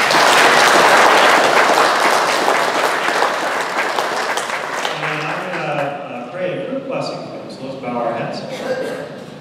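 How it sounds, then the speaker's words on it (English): A church congregation applauds graduates during a Sunday worship service honouring moms and grads. The loud, full clapping slowly fades as a voice starts speaking over the tail end. "Let's give them a round of applause."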